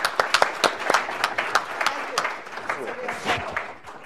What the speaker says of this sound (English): we will just give him an applause